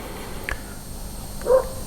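Distant dogs bark in the background, a faint short bark followed by a slightly louder one a second later over a low steady hum.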